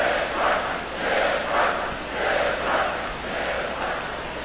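Video-game baseball stadium crowd at a Yankees–Braves matchup, a broad steady roar that swells and ebbs in slow waves about once a second, filling the space with no voices standing out.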